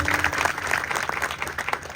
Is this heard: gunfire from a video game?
no